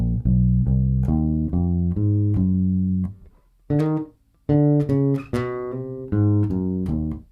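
Bass guitar plays a gospel worship lick of short plucked notes in steady rhythm, with a brief pause near the middle before the phrase resumes and ends on a held low note, clear and close with no talking.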